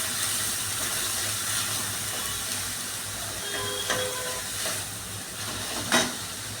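Onion paste frying in hot oil, producing a continuous soft sizzling hiss with a brief clatter near the end.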